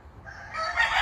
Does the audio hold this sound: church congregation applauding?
no